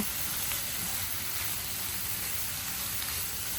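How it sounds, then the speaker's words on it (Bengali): Dried loitta fish fries with spices in a pan, giving a steady, even sizzle and hiss that holds at a constant level throughout, with no talking over it. "শুটকিটা দেওয়ার পর আমি কিছুক্ষণ ভালো করে এটাতে মশলা মিশিয়ে কষিয়ে নিব"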